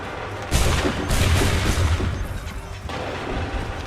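Volley of musket gunfire and booming artillery in the Assassin's Creed III video game, a loud burst of overlapping shots and deep rumbling blasts starting sharply and sustaining throughout, no talking.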